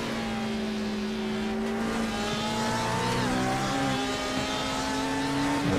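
An LMP2 prototype race car engine drives hard at the Spa 24 Hours endurance race, a loud, sustained onboard roar whose pitch climbs and falls through shifts, with faint tire noise underneath and no talk.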